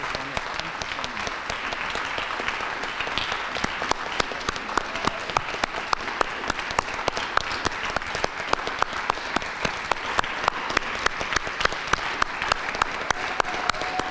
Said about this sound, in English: I hope you can see the standing ovation in the crowd, which is well deserved.